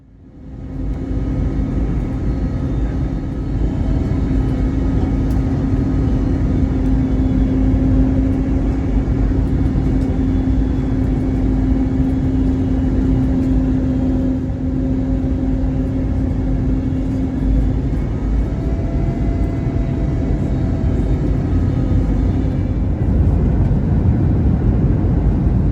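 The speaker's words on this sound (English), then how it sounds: "we are on our final descent into Fort Lauderdale and we're ready for our landing" Steady, loud cabin roar inside a Frontier Airlines jet on final descent into Fort Lauderdale, a continuous low rumble with a faint steady tone on top, unbroken and with no voices.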